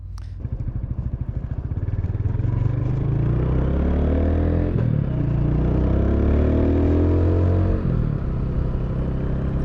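A 2021 Mutt Mongrel motorcycle pulls away close by, its engine climbing through rising revs with gear changes around the middle and near the end, loud and steady with no talk.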